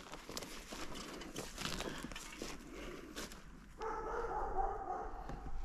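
Dog barking somewhere in a forest during mushroom picking, faint and fairly distant over rustling and footsteps on the forest floor, a few scattered barks rather than a steady run.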